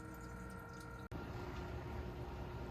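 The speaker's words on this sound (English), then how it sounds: "only thing that I could hear right now is my noisy J-Cod pump" A noisy Jebao aquarium sump pump runs with a faint, steady watery hum and trickle, broken once by a brief dropout before the even flow resumes.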